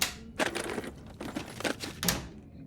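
In The Long Dark video game, an item is repaired with a run of quick clattering, tapping bursts, four or five short clusters close up and fairly quiet.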